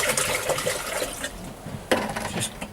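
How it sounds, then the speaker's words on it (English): Tap water rushes steadily into a cooking pan for boiling, a continuous splashing fill that briefly shifts in tone partway through before carrying on. "Just stick a load of water in, whack the top on"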